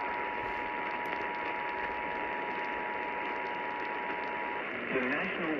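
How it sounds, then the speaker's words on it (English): EAS emergency attention tones received on a radio ahead of a tornado warning in Ohio, a steady tone lasting several seconds beneath a heavy wash of static and poor reception. "2 attention tones."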